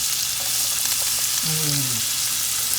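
Half of a very large sweet onion hits the hot pan for a mushroom cream sauce with pork medallions, sizzling steadily and close throughout, with a brief stirring sweep partway.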